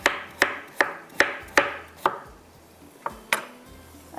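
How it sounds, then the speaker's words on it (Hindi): A knife slices a turnip into thin pieces on a board, giving seven crisp, evenly spaced chops, with one more after a short pause, close and distinct, with no talk. "ये पतले पतले से स्लाइस कटिंग करें"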